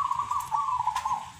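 Zebra dove (perkutut) cooing at close range, a steady tonal call held through the whole moment with faint chirps and background noise behind it.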